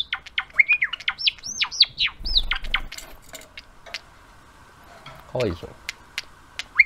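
A bird gives a male courtship call: a rapid series of bright chirps and sweeping whistles, some close and loud, with lighter ticking notes mixed in. A person speaks briefly in the middle.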